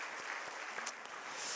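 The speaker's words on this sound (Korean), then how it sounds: "다시 한번 격려의 박수 한번 드리시겠습니다" A church congregation at a Wednesday service gives encouraging applause. The clapping is brief, soft and distant, a steady wash of many hands.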